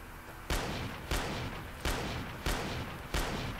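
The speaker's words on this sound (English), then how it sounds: "Yes, so it's quite a powerful gun." Five heavy gunshots from a powerful Fallout 4 weapon fired in Fallout New Vegas, evenly spaced about half a second apart, each a loud sharp blast with a short decaying tail over game ambience.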